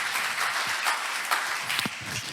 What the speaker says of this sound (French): J'aimerais entendre un grand applaudissement à ceux qui le croient.